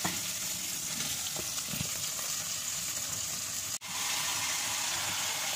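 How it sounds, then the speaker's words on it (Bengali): Fish frying in a pan gives a steady, hissing sizzle that runs evenly throughout, fairly quiet and close, with faint clinks and a brief dropout partway through. "আর এই দেখো মাছটা ভাজছি"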